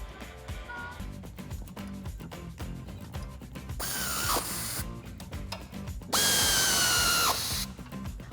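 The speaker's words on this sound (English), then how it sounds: "tighten down the bottom bolt on the end link" Power tool driving the bottom end link bolt on a Jeep Wrangler JL during a lift kit install, heard as a dense run of clicking ratchet bursts followed by two loud sustained whirring spins that wind down, close to the microphone.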